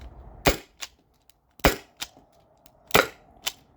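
Byrna SD CO2 launcher running on a 12-gram cartridge fires sharp, weak-sounding pops in an uneven series, three main shots each followed by a quieter secondary snap, close by with no talking.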